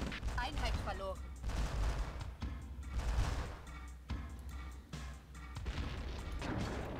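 Loud spice explosions in the video game Dune 2000 burst repeatedly over a dense rumbling battle soundscape, with sharp impacts and crackling debris throughout.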